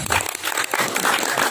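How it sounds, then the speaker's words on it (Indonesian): A crowd at a Nahdlatul Ulama gathering in Candipuro marking Maulid Nabi and Hari Santri breaks into applause, a dense, crackling patter of many hands that is loud and close for under two seconds. "Tepuk tangan"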